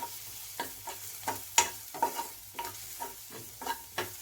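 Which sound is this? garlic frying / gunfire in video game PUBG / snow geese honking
garlic frying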